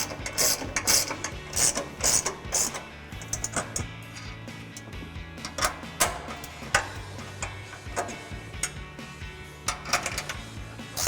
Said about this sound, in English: take a 15mm ratcheting wrench to tighten down our 3 nuts